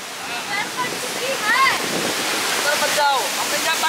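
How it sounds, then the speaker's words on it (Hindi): Naga Falls, a waterfall on the road to Lachung, roars as a steady broadband rush of falling water close by, with voices talking faintly over the constant noise. "तो हम लोग अभी पहुंच गए नागा फॉल्स, तो आपको दिखाते हैं नागा फॉल्स का व्यू।"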